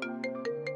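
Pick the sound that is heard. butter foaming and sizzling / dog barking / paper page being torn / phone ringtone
phone ringtone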